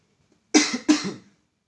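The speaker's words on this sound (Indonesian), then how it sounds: "Maaf batuk." Two quick, close coughs in succession during a lecture, sharp and loud, followed by silence.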